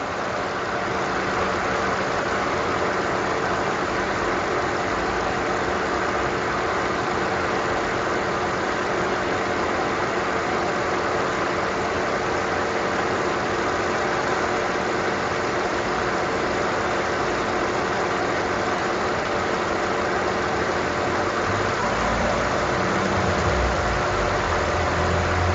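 A car engine idles steadily during a fuel injector test, a constant, moderately loud hum that holds unchanged for the whole stretch, with no talking.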